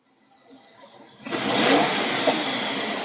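A Suzuki Katana 1000 motorcycle engine idles quietly, then revs up sharply and holds a loud, close roar for the rest of the moment.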